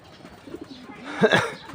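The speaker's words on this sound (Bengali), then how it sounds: "কবুতর দেখি আরও আসে কয়টা" Racing pigeons cooing nearby, a few soft throaty coos rising to a louder burst near the end, with no talking.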